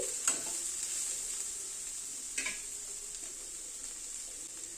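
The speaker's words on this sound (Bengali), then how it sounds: "বড়ির গুঁড়োটা দিয়ে মিশিয়ে দিচ্ছি" Vegetables such as spinach, potato and cauliflower mixed with lentil-dumpling powder in a pan, a soft, steady sizzle with two faint scraping strokes, quiet and without talk.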